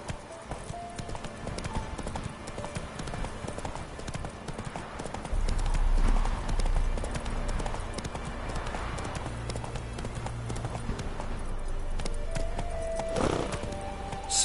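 Hooves of the horse Roach clop in a steady galloping rhythm through The Witcher 3 video game, close and continuous, with a thud and a short whinny partway through.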